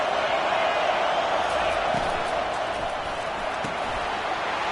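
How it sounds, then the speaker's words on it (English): Broadband roar of a football stadium crowd during a Florida State versus Georgia Tech college game, steady and continuous throughout, with a few sharp thuds poking through and a commentator's voice over it. "listen to the roar of this crowd"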